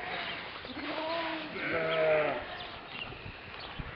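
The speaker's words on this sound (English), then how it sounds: "Look at the sheep have no fear of the dogs, eh?" Sheep on a farm let out a few wavering bleats, moderately close, with soft outdoor background noise and people talking nearby.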